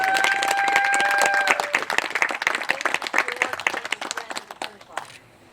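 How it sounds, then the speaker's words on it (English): A crowd at an outdoor groundbreaking ceremony for a water system rebuild applauds a senator, loud dense clapping that thins into scattered claps before fading out. "So let's everyone give him a round of applause."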